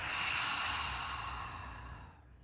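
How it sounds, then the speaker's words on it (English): A long, steady in-breath drawn during a guided energy meditation, broad and airy, close and fairly loud, tapering off near the end with no talking. "Breathing in."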